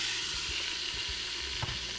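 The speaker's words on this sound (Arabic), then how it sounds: "هلا بدي احط الدجاج واقلبه." Chicken pieces frying in oil for Adeni zurbian, a soft continuous sizzle with a few low thuds and scrapes as pieces are turned, one louder knock near the end.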